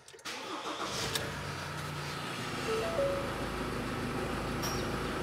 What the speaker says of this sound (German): lasse ich den Motor laufen.